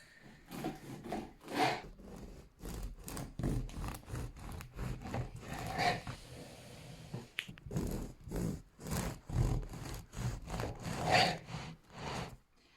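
A knife saws through cooled loaves of no-knead homemade bread, making a steady series of close, crisp, rasping strokes with brief pauses between slices.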